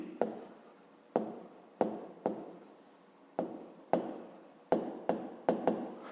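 Pen or pencil writing on paper while working a fifth-grade maths exercise, about ten short scratchy strokes in an uneven rhythm, close and quiet, with no talk.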